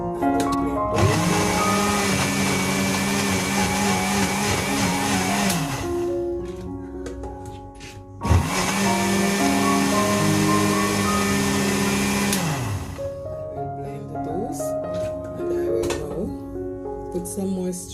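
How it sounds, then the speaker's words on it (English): A kitchen blender whirs loudly in two long bursts, winding up and down, while chopping lettuce, garlic and string beans into a juice, with a quieter pause between runs and softer mechanical sounds afterward. "I will put a piece of the garlic in as well, and few pieces of the string beans. I will blend those."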